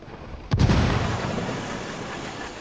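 Grenade explosion in the video game Ghost Recon Wildlands: a single sharp, loud blast followed by a long rumbling decay, heard alone.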